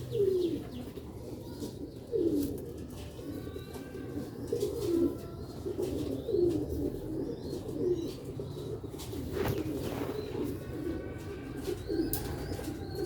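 Sialkoti black-faced pigeons coo softly in repeated low, rolling phrases every couple of seconds, close by, with faint chirps and rustling around them.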